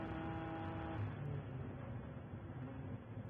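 Race cars pit during the 2022 WRL endurance race at Road America. Engines drone in a muffled, fairly faint and continuous way, with slight rises and falls as cars move through.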